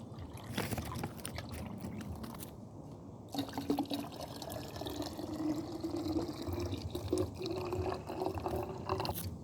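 Water poured from a measuring cup into a mixture of lime juice and sugar, a steady close splashing pour that runs continuously with brief swishing, no voices.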